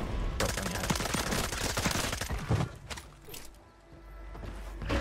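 Rapid automatic gunfire from a Call of Duty: Warzone match, dense bursts of shots for about two and a half seconds, then scattered lighter shots and a low rumble.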